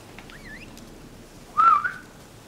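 A person whistles a short wavering tune, then a louder, clearer whistled phrase follows after a pause; nothing else but faint background hiss.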